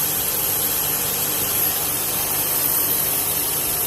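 A 2005 Honda Accord engine idles steadily with a continuous, even hum and high whine from the power steering pump as the wheels are turned, with no squeal; loud, close and constant throughout with no talking.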